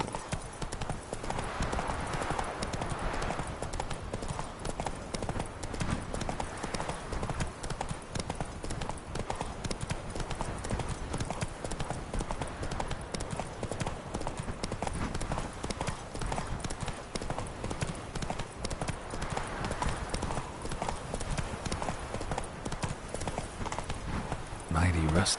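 A horse gallops in The Witcher 3 on PS4, its hooves drumming in a fast, steady clip-clop rhythm throughout, loud and continuous, with game ambience underneath and a voice speaking over it.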